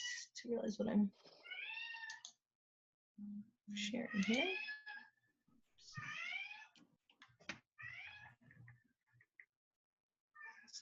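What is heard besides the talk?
pet cat meowing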